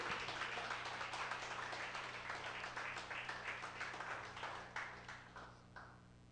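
A church congregation applauds, a sustained wash of many hands clapping at a distance that gradually thins out and fades over several seconds, with no talking.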